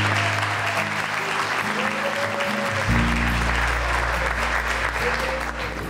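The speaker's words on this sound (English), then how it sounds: "You all deserve a round of applause for the amazing job you did here" Guests at a family celebration applaud the parents, a sustained round of clapping from a crowd heard over a steady background hum and faint tonal sounds, holding at an even level throughout.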